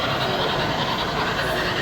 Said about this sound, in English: we have another train going across the top of the trestle there